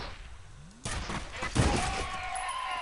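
Gunfire in the shooter F.E.A.R., a couple of sharp bursts followed by lingering rumble and debris, fairly quiet overall.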